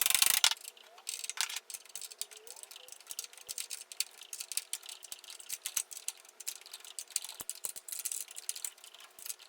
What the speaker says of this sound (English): now I'm going to tension up the blade